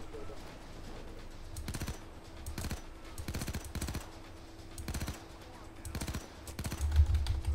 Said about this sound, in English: This is the best submachine gun in the world.